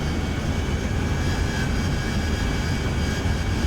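Steady, loud jet engine roar of a Harrier in a flight simulator game, a continuous broadband rumble that holds unbroken throughout with no talk over it.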